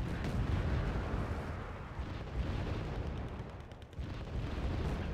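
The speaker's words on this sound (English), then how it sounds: "I'm mortaring the shit out of them." Repeated mortar artillery fire in the Wargame: Red Dragon strategy game, a dense continuous barrage of booming blasts and rumbling impacts that stays loud throughout, with a short dip near the end.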